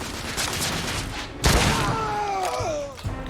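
Bursts of rapid gunfire in a Victorian-era firefight in The Order: 1886, with a heavy thump partway through, dense and loud, mixed with shouting voices and whooshing effects.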